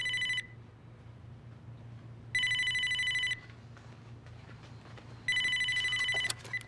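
A telephone rings in three separate bursts of bright, trilling electronic chimes over a steady low hum, with short quiet gaps between rings and no voices.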